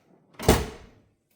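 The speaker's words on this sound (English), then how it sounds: "put it back into your coffee machine and close the door" A Miele CVA 6401 built-in coffee machine door swings shut with a single solid thunk, close and fairly loud, fading quickly with no talk over it.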